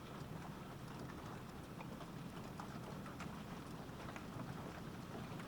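Steady rain falls with thunder, a constant dense hiss of drops at low level with no clear thunderclap standing out and no talk.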